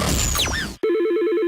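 An old office telephone rings steadily and loudly in a radio advert about legacy phone systems, after a brief swooping sound effect cuts off.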